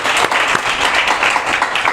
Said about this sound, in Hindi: एक बार जोरदार ताली हो जाए हमारे नाम से परमेश्वर के लिए